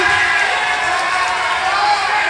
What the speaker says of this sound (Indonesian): Kita beri tepuk tangan dulu kepada para kedua paslon.